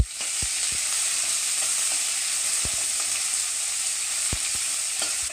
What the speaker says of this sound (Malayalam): നമുക്ക് ചതച്ച് വെച്ച ഉള്ളി ഇതിലേക്കിടാം.